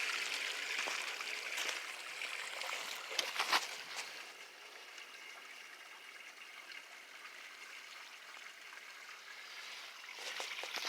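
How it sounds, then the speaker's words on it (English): Water runs and trickles through an open trench dug for a driveway rebuild before backfilling, a faint, steady splashing flow with a few brief louder knocks early on and no talking. "you can see water running"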